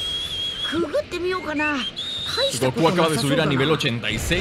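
A man whistles a few short melodic phrases early on, then keeps talking over the upbeat tune of the Dragon Ball Z Kakarot game, and the whistling fades under his speech and the game audio.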